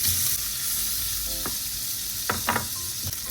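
Shrimp and smoked beef sizzle in a pan with a steady close hiss, broken by a few sharp clicks and scrapes of a utensil against the pan.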